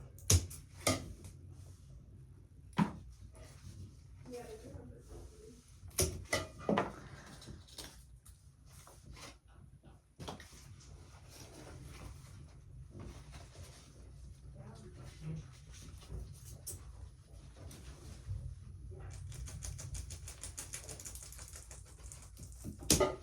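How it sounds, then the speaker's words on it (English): Scissors snip through the ugly leaves of a houseplant sitting in a bathtub, a series of sharp, close clicks and snaps scattered irregularly, with rustling foliage and quiet handling noise between the cuts. "But I am about to cut off all of those ugly leaves."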